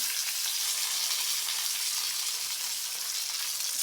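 Pithe (puli) cakes fry in mustard oil over a clay stove, giving a steady, close, loud sizzle that holds even throughout with no voices.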